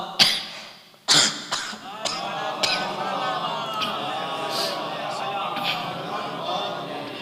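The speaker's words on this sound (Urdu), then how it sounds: "کئی دنوں سے یہ کھانسی چل رہی ہے" A few harsh, loud coughs in quick succession at the start from a man with a days-long cough during a religious lecture, followed by a steadier murmur of talk in the background.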